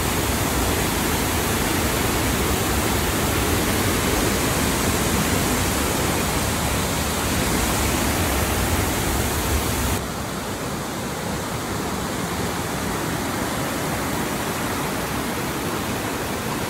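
Matigol Falls roars as a loud, steady wash of falling water, constant and close throughout, slightly softer in the final stretch, with no voices.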